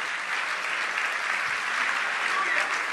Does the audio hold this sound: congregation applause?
yes